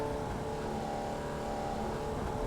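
Race car engine droning steadily at a constant pitch as it enters the pit lane with the speed limiter engaged in a racing video game, a continuous hum with no other sounds.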